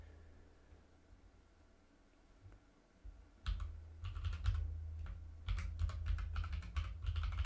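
Typing on a computer keyboard starts after a quiet stretch, with clusters of quick, close key clicks in irregular bursts over a low background hum.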